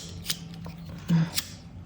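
Two quick snips of scissors cutting through yarn over a low background hum, with a brief muffled thump between them.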